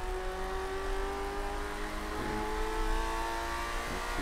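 Race car engine in Project Cars 2, a continuous loud, close whine with rising and falling pitch as the throttle is worked, rev changes clearly audible and no voice over it.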